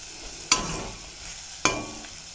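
Bitter gourd karamathu masala sautés in a pan under a soft, steady sizzle, broken by two distinct scraping stirs of a spoon about a second apart.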